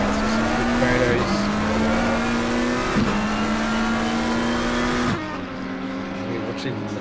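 Race cars, a McLaren and an Audi, roar at high revs around Suzuka in the PC racing game Race On, with steady engine drone and gear-shift dips, loud throughout, while a commentator talks over it.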